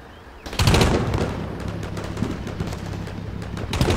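Gunfire in the modern combat video game Combat Mission Shock Force: a sharp burst of shots opens the clip, a rattling sustained volley follows, and another loud burst ends it, with no speech.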